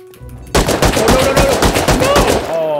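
An automated turret in the survival game Rust lets loose a fast burst of gunfire, many sharp shots in quick rhythm lasting about two seconds, loud and close, then cutting off abruptly.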